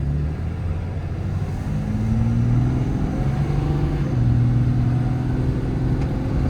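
A 2016 Ram 5500 single-cab with a Cummins diesel and 4WD drives down the road. The engine drone climbs steadily, drops with each smooth gear change, then rises again under a constant, loud rumble.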